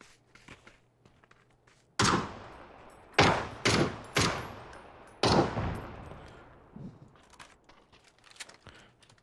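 Several loud bursts of rapid gunfire in PUBG crack out in quick succession, then trail off into scattered quieter shots and faint clatter.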